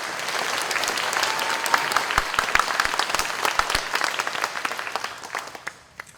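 Audience applause at an eighth grade promotion ceremony, a full crowd clapping steadily with crisp individual claps standing out, then thinning and fading away in the final second.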